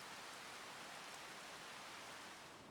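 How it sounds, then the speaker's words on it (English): Steady rain falling in the farming game Farming Simulator 25, a dense, even hiss with no distinct drops, continuous and fairly quiet throughout with no voices. "But you shouldn't be raining. Please stop raining."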